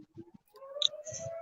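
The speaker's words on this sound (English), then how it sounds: "Simply wouldn't be in town if the fire siren didn't go off." A town fire siren starts to wind up on Thanksgiving, a faint rising tone swelling in the background after a few soft clicks and knocks nearby.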